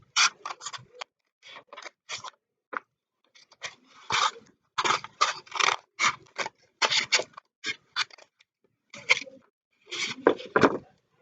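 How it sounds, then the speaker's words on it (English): Scissors snip through the cardboard edge of a recycled egg carton in irregular bursts of close, crisp cutting and rustling, with short pauses between strokes. "I'll cut off this edge."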